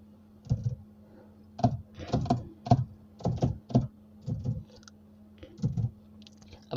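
Digits being typed into a table on a computer keyboard: irregular bursts of crisp, close key clicks separated by short pauses, with a faint steady hum beneath and no speech.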